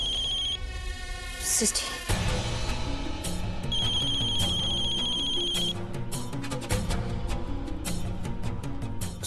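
A telephone rings with a repeating electronic ringtone in a household scene from a Hindi TV drama, its trilling tone recurring over several seconds while people speak and background music plays.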